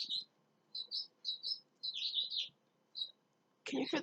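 Small birds in a residential yard chirping in short bright bursts with brief gaps between calls, fairly close but quiet, ending with a sudden louder rustling noise.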